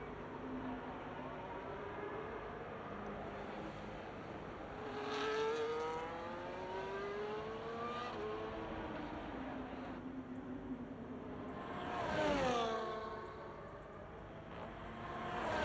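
Race car engines in a sim racing game at a Mexico circuit drone steadily throughout, with rising gear-change sweeps and two louder passes, one near five seconds and a stronger one near twelve seconds.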